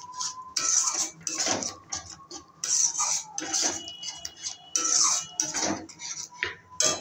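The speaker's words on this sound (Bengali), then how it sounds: "এবার আমি দিয়ে দিচ্ছি 2 চামচ মতন ক্রিম, এটা আমি মিশিয়ে নেব।" Cream stirred into paneer afghani in a pan, a spoon scraping and clinking repeatedly against the metal in uneven bursts, close and fairly loud, no voice heard.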